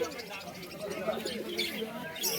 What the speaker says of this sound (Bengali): পায়রা রয়েছে এখানে